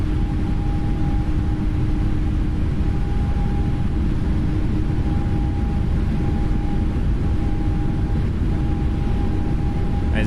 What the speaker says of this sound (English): It's going to be one long takeoff roll tonight.